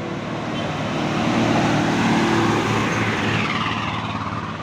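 JMP Viatol city bus at the Purabaya terminal entrance, a loud steady diesel engine rumble with low tonal drone swelling slightly mid-way, alone without talk.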